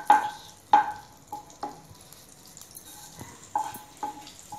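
Cumin seeds dropped into hot butter oil, crackling and sizzling in a pan with several sharp metallic taps from a utensil against the vessel, fairly close, no talk.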